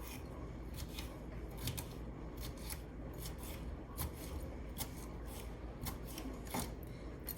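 A knife slicing the white pulp from fajita vegetables on a cutting board, giving soft, close, repeated cutting and scraping strokes at an uneven rhythm against a steady low background.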